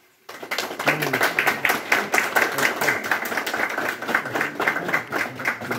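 Crowd at a BJP joining event in Jagtial claps in a steady, loosely rhythmic patter that starts abruptly and continues evenly, many hands close by, with no talk over it.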